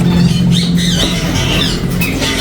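A young bird with a drooping wing, not yet able to fly, squawks loudly and continuously up close in harsh repeated calls.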